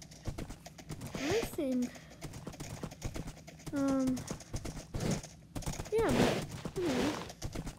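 Horse hooves clip-clopping in Minecraft survival, soft rhythmic clops under someone talking, with a few horse snorts and whinny-like calls breaking in at intervals.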